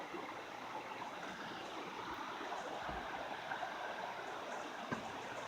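A forest stream flows by a trail near a bridge on a sleety day, producing a soft, constant rushing wash of water with occasional faint splashes, quiet and steady throughout with no voices.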